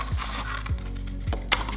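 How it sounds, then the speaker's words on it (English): Scissors snip through a cardboard paper towel tube, giving three close, sharp, evenly spaced cuts followed by a brighter crisp snap as the tube separates. "get scissors and just simply cut it in half."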